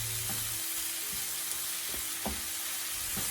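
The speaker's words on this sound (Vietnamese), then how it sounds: "Mình xào nấm cho thật là chín đến khi mà nó mềm hẳn nha." Mushrooms sizzling and frying in a pan with tofu, a steady hiss with a few soft stirring knocks from a utensil scattered through, no voices.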